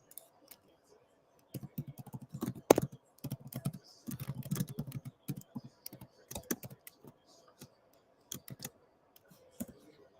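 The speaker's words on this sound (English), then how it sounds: "I was typing. Took too long to type." Computer keyboard typing in quick irregular bursts of clicks, close and moderately loud, with short pauses between flurries and no voices.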